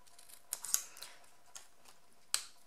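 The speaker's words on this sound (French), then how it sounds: "Découper juste une toute petite bande, à peine 1 cm de large et sur à peu près 2 cm de haut." Scissors snip a narrow strip from paper offcuts of cut-out fir-tree shapes in a card-making craft, giving a few sharp, close snips spaced irregularly over a quiet background, with no talking.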